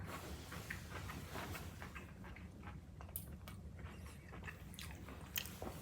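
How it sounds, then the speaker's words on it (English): Crunchy garlic snack from a Japanese 7-Eleven, chilled in the fridge, chewed loudly close to the mouth in rapid irregular crunches and bites, no talk. "Sorry, I'm chewing so loud"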